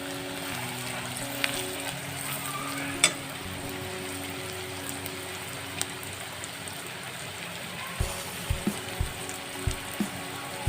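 Spiced duck meat being stirred in a pan, with steady low sizzling and faint scraping throughout, then a cluster of sharp clacks from the utensil near the end.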